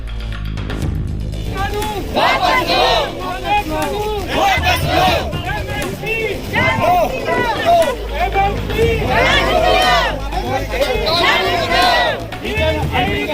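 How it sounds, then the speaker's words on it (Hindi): Thousands of farmers massed at the Ghazipur border protest make a dense, steady crowd hubbub, with overlapping voices and shouts swelling and receding throughout. "आप देख सकते हैं हजारों की भीड़ है"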